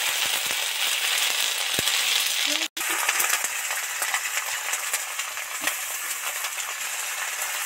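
Ginger paste hitting hot oil in a pan gives a steady, bright sizzling hiss that runs the whole time, with one brief sharp dropout partway through and no talk.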